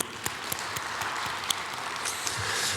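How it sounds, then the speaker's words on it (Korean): Church congregation clapping during a Sunday service, a fairly quiet, sparse patter of claps with a few sharper individual hits, somewhat distant and thin. "우리 하나님께 감사와 영광 박수 올려드리겠습니다."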